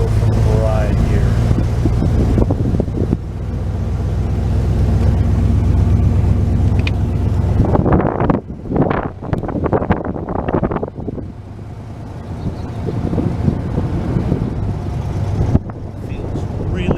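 A 1995 Chevy Tahoe with a new engine drives along, a steady low road and engine rumble with wind buffeting the microphone, shifting into bursts of louder, rougher noise partway through.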